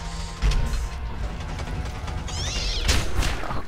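A mutated kitten from the Borderlands video game meows and yowls amid game combat noise, with sharp impacts and a rising, warbling cry near the end.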